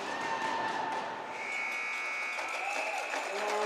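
At a U16 ringette game between Team Ontario and Team Nova Scotia, a shot clock buzzer sounds as a long steady electronic tone over arena crowd noise, fairly loud, with no talking.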